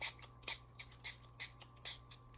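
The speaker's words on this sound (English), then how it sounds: "I'm going to spray" Quiet, sharp bursts of stain from a spray bottle, roughly seven quick squirts in irregular rhythm, close and alone with no talking.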